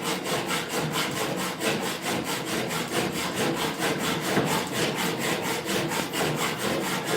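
A hand hacksaw cutting aluminium, steady rhythmic back-and-forth strokes at about three per second, close and continuous with no talking.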